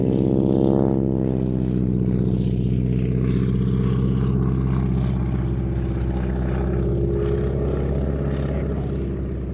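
Propeller aircraft flying a wing-walking display at the Sywell Airshow, a loud, steady droning engine roar with a shifting pitch, close and continuous, easing slightly toward the end.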